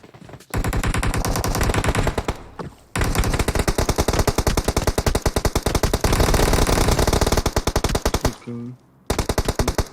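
Automatic gunfire in the mobile battle game PUBG Mobile, loud rapid bursts of shots running almost continuously with a couple of short pauses, close and dominant.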